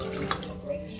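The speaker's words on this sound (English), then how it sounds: "you can rinse, strain the water. I usually wash my peas" Peas being rinsed under running tap water in a sink for stew peas, a steady close splashing stream lasting about a second.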